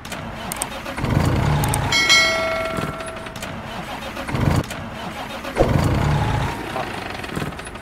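A heavy truck engine in American Truck Simulator cranks with a whirring starter, catches and settles into a low rumble, followed by a couple of louder revs and a faint chime.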